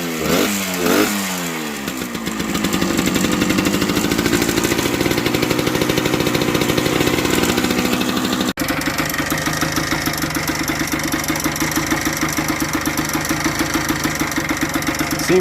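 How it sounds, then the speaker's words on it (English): A 1978 Yamaha DT100 motorcycle engine idling after restoration work, a steady two-stroke putter with a brief blip at the start, running loud and close with a fast, even pulse throughout. "Seems to be idling fine."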